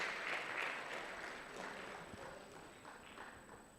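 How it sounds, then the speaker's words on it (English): Faint, scattered clapping from an audience at an East African university debate championship at Makerere University, distant and thin, tapering off gradually. "Please clap for the Bandari people."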